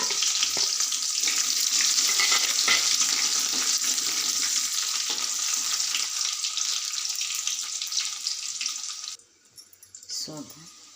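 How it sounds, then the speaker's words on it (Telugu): Onions fry with tempering spices in oil in a kadai, a loud, close, continuous sizzle that suddenly drops off near the end, followed by a brief scrape or clatter. "పోపు దినుసులు వేసినాక ఉల్లిపాయలు వేస్తున్నాను."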